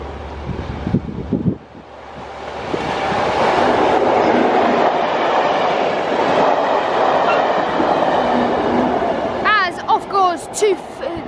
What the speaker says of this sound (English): As here comes the HST.